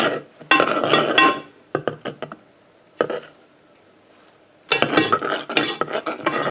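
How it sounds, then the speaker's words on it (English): Fudge is stirred in a pan to work out the lumps, giving bursts of scraping and clinking utensil-on-metal sounds close by, broken by short pauses and a quieter stretch in the middle. "you want to stir in the fudge until there's no lumps left"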